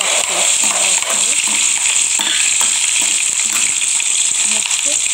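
Spices for gongura dal tempering crackle and sizzle steadily in hot oil, a continuous bright hiss with fine popping throughout, while a person talks over it.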